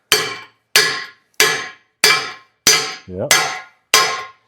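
Seven loud, evenly spaced hammer blows ring out on a metal part of a hot rod being upgraded, each strike sharp and metallic with a short decaying ring; a brief spoken word slips in between two blows.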